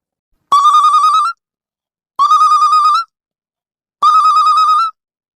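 A phone ringtone plays three times in evenly spaced bursts, each a bright electronic trill about a second long with short silences between.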